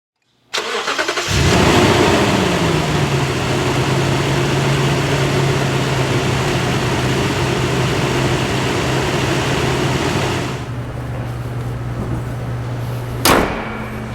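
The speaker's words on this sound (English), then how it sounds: "Let us hear this engine running" A repaired Toyota V8 cranks, catches and settles into a steady, loud idle with a low rumbling hum, running alone before a sharp click near the end.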